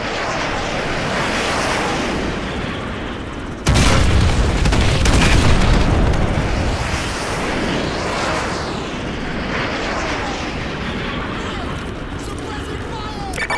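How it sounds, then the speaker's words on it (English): Heavy artillery strike explosions in Call of Duty: Modern Warfare 2, a booming blast hitting at once and rumbling on with dense roaring debris and wind-like noise, with loud battlefield ambience before and after. "Use your laser designator to call in artillery on those vehicles."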